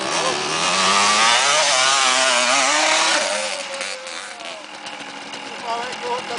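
A motorcycle engine revs hard nearby, rising and falling in a loud buzzing whine before settling to a lower rough idle, with voices talking over it.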